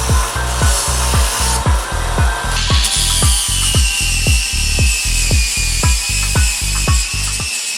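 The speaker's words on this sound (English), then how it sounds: "run them through the sander and then hit them with a flap disc" Steel worked on a sander and then a flap disc, with a steady rhythmic grinding and rubbing that repeats about twice a second. The pass is loud and close, and a brighter high whine joins partway through. Nobody talks.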